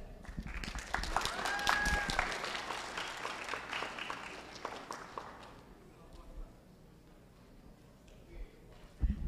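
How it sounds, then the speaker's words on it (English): Audience applause at a leadership camp capstone presentation, dense clapping for about five seconds that then fades into room murmur and scattered voices. "I'll make the announcement again for the clapping"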